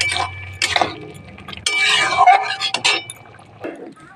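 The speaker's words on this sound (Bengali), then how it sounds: "পোস্ত বাটাটা দিয়ে একটু নেড়ে নেব" A spoon stirs poppy seed paste into a small-fish curry with greens, potato and carrot in a pan, giving scraping and clinking against metal in short bursts, close and fairly loud.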